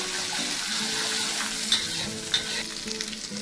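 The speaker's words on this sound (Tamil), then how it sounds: "இந்த எண்ணெயிலே இந்த பிளாச்சான் இப்படி குக் பண்ணால்" Belacan shrimp paste cooks in hot oil with a busy, bubbling sizzle and continual stirring, including a couple of sharper scrapes near the end, heard close and with no one speaking.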